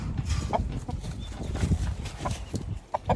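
Farmyard chickens cluck in short, scattered bursts at close range, with soft rustling and shuffling between the calls.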